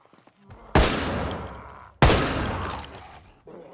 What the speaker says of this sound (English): Oh, I hear shooting.